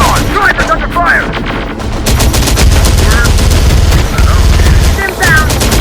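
Dense gunfire in the video game Terminator Dark Fate Defiance, rapid shots and bursts running loud and continuous throughout, with radio-style voices talking over the battle.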